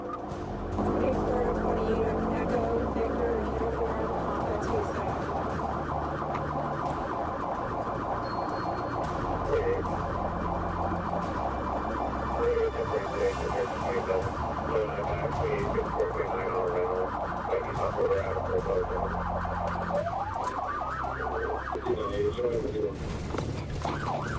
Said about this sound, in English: When lights and siren were activated, the driver fled at speeds exceeding 115 miles per hour.